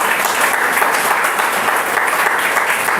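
A church congregation bursts into loud, dense applause during a worship session. Many hands clap at once in a thick, steady roar that lasts the whole stretch without talk.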